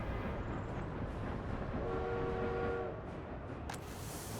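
Rail traffic in the Workers and Resources city-building game, a train bound for the brewery: steady rumbling rolling noise with a sustained horn-like tone in the middle and a brief sharp whistle near the end.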